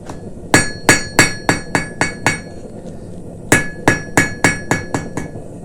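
Steel ornament tip being drawn out at the forge with a hammer, two runs of about seven to eight sharp, ringing metallic blows in steady rhythm, close and loud, separated by a brief pause, with no talking.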